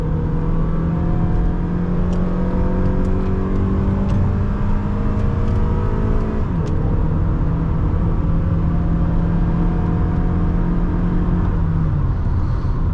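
A 2009 Honda Accord LX engine pulls steadily under acceleration, a smooth rising whir heard from inside the cabin, dipping once on a gear change before climbing again, with faint clicks over the constant road rumble.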